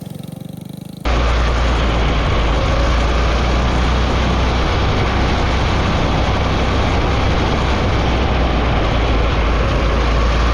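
A small mini bike engine starts abruptly after a quiet second, then runs loud and steady with a rough, vibrating drone close by.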